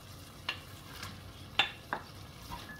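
Minced meat frying in a pan makes a quiet, even sizzle, broken by three or four sharp clicks of a utensil against the pan.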